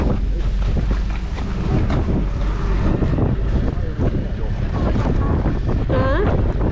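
A snowstorm wind in the city of Vaasa, Finland, roars steadily and buffets the microphone in a loud, unbroken rush for the whole stretch.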